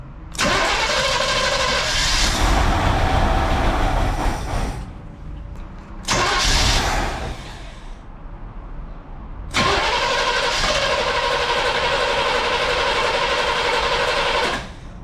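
A 1969 Chevrolet Impala V8, flooded and not run for 20 years, cranks loudly in three long bursts with pauses between them, a steady grinding churn close to the listener.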